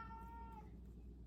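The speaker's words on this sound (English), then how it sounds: "There's my mouthy cat." A talkative house cat gives a single short meow that rises and fades over about half a second, faint and somewhat distant over a low room rumble, with no speech.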